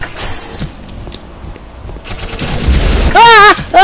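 Gunfire from a weapon in the video game Black Mesa: several loud bursts and shots with mechanical clatter, ending in warbling, sweeping electronic tones.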